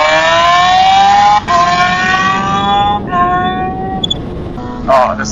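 A fast motorcycle being ridden hard, its engine screaming at high revs, dropping sharply as it shifts gears, then climbing again, loud and close with rushing wind.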